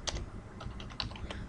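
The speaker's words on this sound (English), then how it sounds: "I'm going to start typing in" Keys tap on a computer keyboard while commands are entered in AutoCAD, a quick run of light clicks at an uneven typing pace, close but soft, with no talking.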